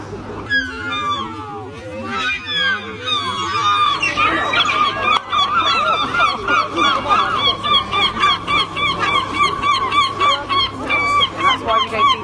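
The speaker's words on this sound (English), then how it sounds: "That's why we don't feed the seagulls." Seagulls squawking and honking loudly and repeatedly, a rapid chorus of harsh cries close by during an attack, with people talking and shouting among them.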